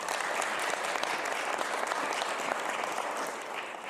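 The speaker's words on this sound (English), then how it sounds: "I think we should applaud for that." A crowd at a press event with Prime Minister Justin Trudeau in British Columbia claps steadily, a dense, even burst of applause that fills the whole span and fades slightly at the end.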